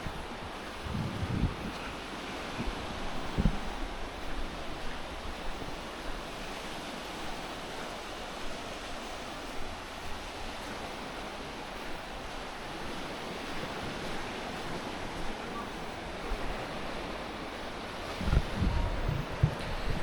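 Waves breaking on the beach at Hua Hin, Thailand, a steady broadband wash of surf with light wind noise on the microphone, a few louder surges near the start and end, no voices.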